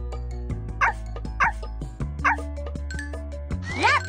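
Cartoon puppies give a string of short, high yips and barks in quick succession over a bouncy animated music bed.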